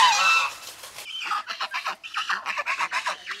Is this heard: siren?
no